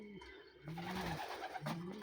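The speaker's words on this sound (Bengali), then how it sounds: "দেখছেন দেশি কবুতর" Native pigeons cooing close by, a few low, throaty, rolling coos repeated over a couple of seconds with no talking.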